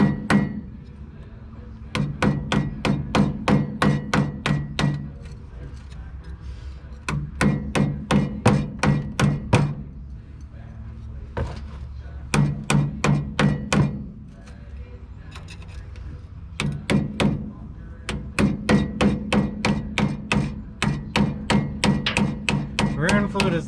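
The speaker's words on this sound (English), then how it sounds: "hammer that chisel up in there. Break the seal." Repeated rounds of sharp metallic hammer strikes on a chisel breaking the seal on a race car's rear end, rapid evenly spaced blows in bursts separated by short pauses, close and loud.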